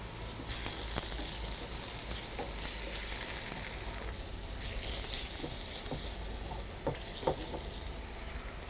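Food cooks in a pan on the fire while being stirred, a low steady sizzle broken by occasional light scrapes and clicks of the utensil, close and fairly quiet.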